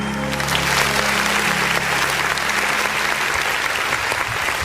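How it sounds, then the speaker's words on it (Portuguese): Church congregation applauding during an online worship service, dense sustained clapping that fills the space, loud and steady, with a low organ or keyboard tone fading out partway through. "Aleluia, aplauda ao Senhor Jesus,"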